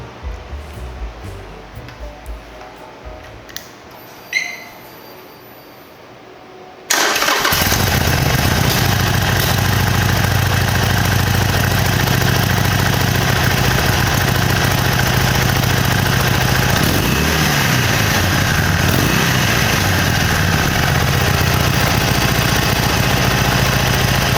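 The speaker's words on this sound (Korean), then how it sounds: "들어보시면 순정이어도 확실히 공랭 엔진이기 때문에 그 할리의 특유의 배기음이 확실히 있습니다." After a few quiet seconds of small handling noises, a Harley-Davidson Iron 883 with an air-cooled V-twin and stock exhaust starts and settles into a loud, rough, throbbing idle that continues steadily.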